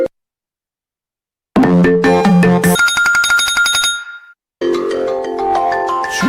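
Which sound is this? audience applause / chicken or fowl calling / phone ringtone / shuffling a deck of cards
phone ringtone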